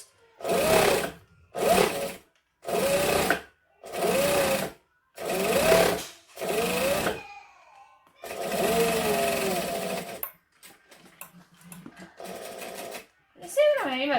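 Sewing machine running very fast through vinyl in repeated bursts of about a second each, separated by short pauses, then longer stitching runs with talk between.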